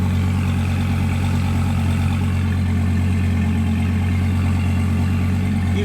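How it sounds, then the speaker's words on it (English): A 2016 Dodge Viper ACR sports car with its engine running, a steady, loud, deep exhaust rumble that holds constant throughout without revving or pauses. "Hear the exhaust note? That sound good?"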